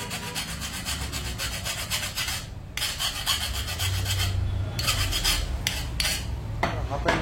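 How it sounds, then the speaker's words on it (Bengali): A hand file rasps steadily back and forth across a workpiece being cleaned up, the close strokes repeating in an even rhythm with brief pauses between passes. "তো আমরা একবার ফাইল দিয়ে এনে এটা ফাইল করে নেব।"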